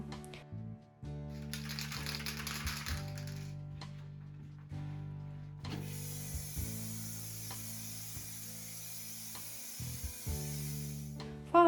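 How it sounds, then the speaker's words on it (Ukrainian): Montana Black brown matte spray paint in the Java shade hisses onto an old wooden cabinet in two bursts, a short spray and then a longer steady one, over a low tonal background. "Фарба легко розпилюється і має дуже гарний оксамитовий фініш"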